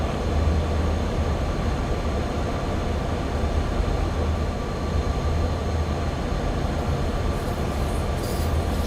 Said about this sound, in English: So we have got another train coming